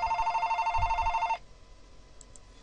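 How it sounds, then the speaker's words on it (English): Telephone ringing nearby, a steady trilling electronic bell burst lasting over a second before cutting off, leaving quiet room tone with a couple of faint clicks. "Sorry about that. The phone rang."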